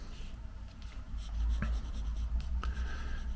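Pencil sketching a portrait on paper, drawn from a photo in preparation for watercolor painting, with soft scratchy strokes and a couple of sharper taps over a low background hum.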